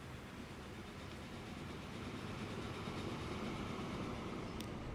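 A train in the video game Transport Fever 2 rumbles along with a steady rolling wheel noise, faint but continuous, swelling slightly louder toward the end.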